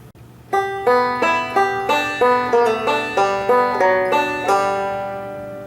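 Closing phrase of the tune Train 45 on a plucked string instrument, about a dozen crisp picked notes in a steady rhythm with bright ringing overtones, close and clear, letting the last note ring out alone.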